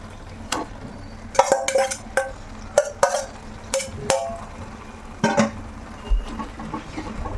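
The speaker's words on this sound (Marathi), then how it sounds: "आता आपण जी परतून ठेवलेली मेथी होती ती मेथी आपण ह्यामध्ये टाकणार आहोत आणि व्यवस्थितपैकी त्याला फ्राय करणार आहोत" Fenugreek leaves being stirred and fried into masala in a pan, heard as intermittent scraping and clinking of a spoon against the pan over a soft background sizzle. The clatters come in short, irregular bursts.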